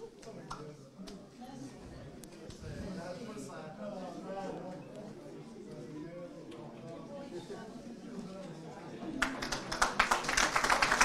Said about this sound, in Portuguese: recebe as palmas do público do União de Almeirim